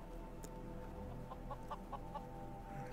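A chicken in Skyrim SE clucks softly in a few quick, faint clucks over a steady game ambience hum, with the calls coming in a short cluster near the end.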